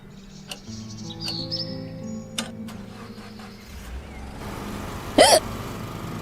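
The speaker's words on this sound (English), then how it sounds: "Oh, you got hiccups." A single sharp hiccup bursts out near the end, loud against a low steady room background with faint scattered chirps.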